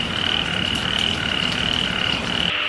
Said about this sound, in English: But the frogs out here are just ridiculously loud.